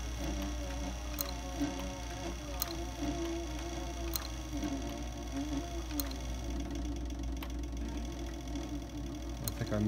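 A CB 3200 sewing machine, brand new with assembly lube still on it, stitches a leather holster with a steady mechanical hum and faint regular ticking from the needle, loud and close throughout.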